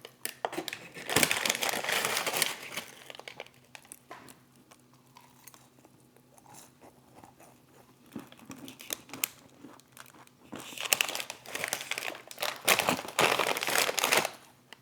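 A dill seasoning packet is handled and crinkled in close, loud bursts of plastic rustling at the start and end, with quieter shuffling in between and no talking.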